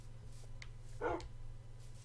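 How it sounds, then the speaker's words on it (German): A distant dog barks once or twice inside a dark Minecraft game world, a short muffled burst over a steady low hum with faint game tones around it. "Ich höre Hunde."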